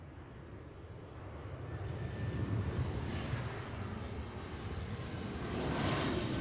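A plane arriving at Seattle airport makes a low, distant engine rumble that swells steadily and grows louder toward the end, heard alone with no voices.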